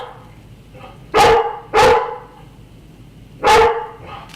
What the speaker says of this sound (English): As you can hear my golden doodle Moose in the background